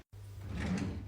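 A kitchen drawer slides open or shut, one short rolling scrape after a moment of silence, close and fairly quiet.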